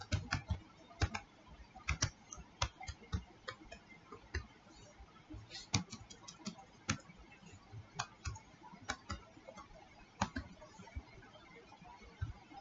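Keyboard keys clatter in irregular bursts of sharp taps as a bank branch name is entered into gas agency accounting software, close and fairly quiet, with no talk.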